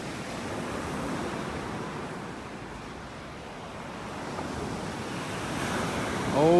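Gulf of Mexico surf rolling onto a beach in North Naples, Florida, a continuous close wash of breaking waves with swelling rushes and some wind buffeting the microphone, no voices.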